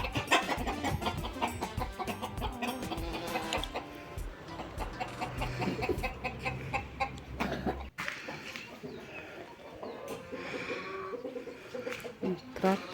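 Backyard chickens cluck in a farmyard next to a vegetable garden, with repeated calls mixed into a busy, fairly loud background that includes voices.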